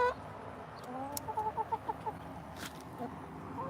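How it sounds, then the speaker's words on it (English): Hens cluck in a short run of soft, rhythmic calls in a backyard flock being fed watermelon, mid-distance against low background noise, with a brief sharper squawk near the end. "Oh, I bet she'd like to see these chickens"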